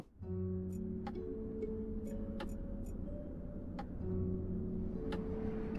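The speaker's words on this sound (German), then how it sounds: "Ich höre immer noch die Uhr." Ticking clock in the video game Black Mirror 3, sparse faint clicks over a humming ambient background with soft tonal layers, no voices.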